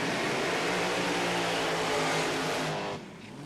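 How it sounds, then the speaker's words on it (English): A drag racing car does a long burnout at Willowbank Raceway in Queensland during a drag racing championship round: a loud, continuous engine roar with tyre noise that holds steady, then drops off sharply near the end. "it's usually Bill that goes first with the longer of the burnouts"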